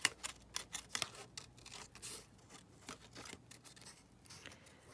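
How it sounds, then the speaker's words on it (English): Scissors fussy cutting around a paper shape for a Christmas craft make a steady run of close, crisp snips, quick at first and then spaced out, with no talk. "watching me just fussy cut this"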